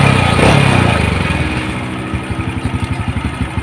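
A motorcycle engine idles close by after carburetor tuning, at first a dense running drone that settles into a steady, even pulsing beat of firing strokes, with no talking.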